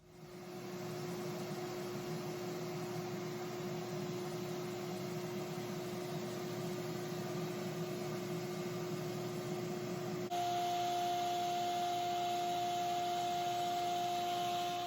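A DeWalt 10-gallon, 5.5 peak HP shop vacuum runs steadily and loudly, a constant motor drone with a whine that shifts pitch partway through and then holds.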